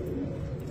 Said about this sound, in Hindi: ये हाई फ्लायर कबूतर है।